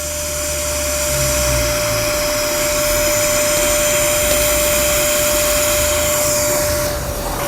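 A cordless Kärcher SE3-18 spray extraction cleaner suctions with a steady whining motor hum, continuous and close throughout, with the pitch and airflow shifting slightly near the end.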